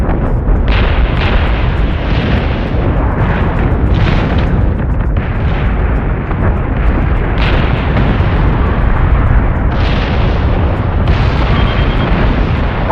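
Continuous heavy weapon fire and rolling explosions in a space battle in the Battlestar Galactica Deadlock video game, a dense, loud barrage of booms and bursts filling the whole stretch with no talking.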